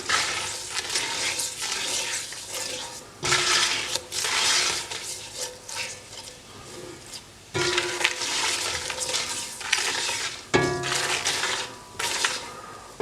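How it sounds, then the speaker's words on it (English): Spices and poppy seeds sauté in a pan over medium-low heat for a Goan chicken xacuti, a steady sizzle with stirring scrapes and louder surges as the contents are moved about. "So I'm just going to saute this now for a minute, roughly."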